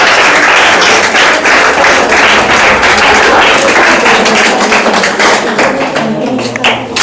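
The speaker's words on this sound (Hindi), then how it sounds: "सबसे पहले ताली बजाओ भाई जोर से एकदम" A classroom audience claps loudly for a student receiving a test prize, dense continuous applause that swells and holds for several seconds before thinning slightly at the end.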